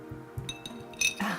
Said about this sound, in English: So I actually have a glass of bubble water handy, and I'm gonna put my ice cubes in it.